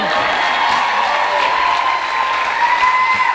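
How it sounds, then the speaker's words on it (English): Audience applause at a startup investor talk, steady dense clapping filling the whole stretch at close, even loudness with no voice over it. "give me a big applause here"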